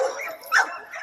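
Dogs barking on an outdoor dog yard, a short burst of yips and whimpering barks at moderate distance, with no talk.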